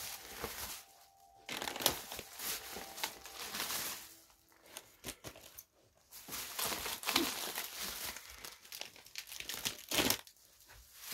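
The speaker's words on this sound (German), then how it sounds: "Ich tue jetzt mal kurz die ganzen Sachen aus der Tüte raus." A plastic shopping bag of sweets crinkles and rustles close up in irregular bursts as items are pulled out and unpacked, with short quiet gaps between the handling noises.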